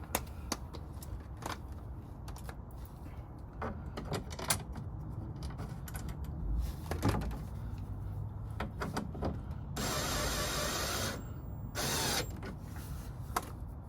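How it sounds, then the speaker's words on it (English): A power tool whirs in short bursts amid mechanical clicks and handling noise while a new front spoiler is installed on a Chevrolet Corvette C3, with a sustained higher-pitched run near the end. "A lot easier when you use a power tool."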